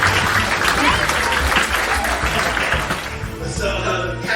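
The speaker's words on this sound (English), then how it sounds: "Give us some applause." Steady applause from a game show studio audience, loud and sustained for several seconds, thinning out toward the end.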